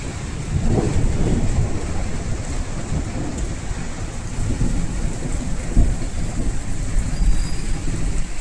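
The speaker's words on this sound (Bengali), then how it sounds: "মেঘ ডাকছে, মেঘ।" Thunder rumbling low and rolling through steady, heavy rain falling on surfaces outside a home, the downpour continuous throughout with the rumble swelling and fading.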